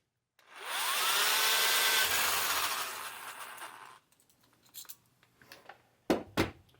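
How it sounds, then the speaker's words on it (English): Electric drill boring out rivets on an Austin Healey Sprite light fitting, a steady whirring grind that lasts about three and a half seconds before stopping. A few loose knocks and clatters of parts follow. "Okay, so I've drilled those rivets out."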